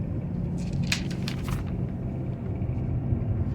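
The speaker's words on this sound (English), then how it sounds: "I will be driving through the town of" A car drives through the small town of Lumpkin, Georgia, heard from inside as a steady low road rumble with a few brief faint clicks and rattles.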